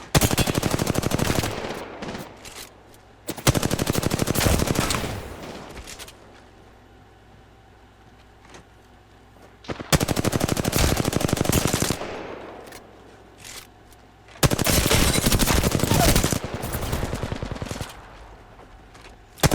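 Automatic weapon fire in the video game Apex Legends, loud sustained bursts in four separate bouts, each a few seconds long, with quieter gaps between them.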